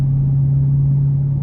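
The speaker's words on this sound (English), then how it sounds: "Let's go ahead and take this 23 Challenger SRT Hellcat Redeye Widebody out on the road for a test drive." A 2023 Dodge Challenger SRT Hellcat Redeye Widebody Jailbreak with a 6.2-litre engine on a road test drive, heard as a steady low idle-like drone with a strong constant hum, close and unchanging, with no talk.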